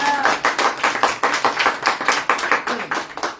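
A congregation at a praise meeting claps hands together in a brisk, even rhythm, loud and close, a run of sharp repeated claps with a faint voice underneath.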